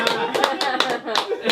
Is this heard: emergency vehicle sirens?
no